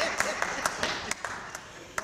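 An audience at a public presentation by Sen. James for the Maynard Jackson Interchange claps in scattered, uneven hand claps, moderately close and fairly light, with a murmur of voices underneath.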